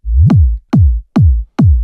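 Electronic kick drum sample for hard house, four heavy booming hits with a pitch drop, evenly spaced and loud, alone with no voices.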